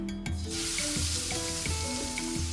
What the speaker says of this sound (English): Oil is ready. I'm going to add the onion.